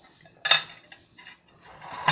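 Pancit noodles stirred in a pan with a utensil, giving a few sparse metallic clinks and scrapes, close and moderately loud with quiet gaps between.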